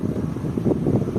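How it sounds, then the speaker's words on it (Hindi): Wind blowing through Sudhowala forest near Dehradun, a steady low rushing buffet against the microphone with gusty swells, close and continuous, with no voices. "ये यहाँ पे बहुत अच्छी हवा चल रही है"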